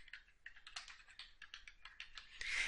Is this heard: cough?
no